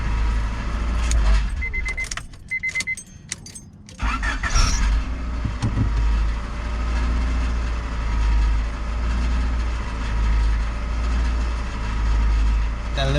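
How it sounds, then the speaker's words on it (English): A 1995 Honda Accord with a missing exhaust hanger: keys jangle, then the engine starts and settles into a steady, close idle with a faint rattling undertone. "That little rattling noise, my exhaust is missing a hanger."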